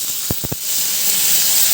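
Tomatoes dropped into a hot kadhai while cooking mixed saag, a few quick thuds followed by a loud steady sizzle and hiss that continues to the end.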